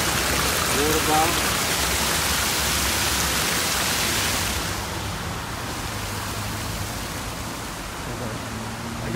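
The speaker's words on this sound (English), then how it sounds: "Here he is, filling up the water bottle." Natural spring water pours steadily into a water bottle outdoors, a continuous close splashing rush that softens and thins partway through, with a person talking briefly near the start.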